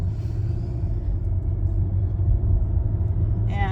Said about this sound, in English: Okay, so driving down the street.